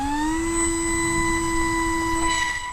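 Electric motor of a Graffiti Delta Wing 560mm RC plane at launch on 50% throttle, a loud steady high whine rising quickly in pitch and then holding a constant tone, close to the listener.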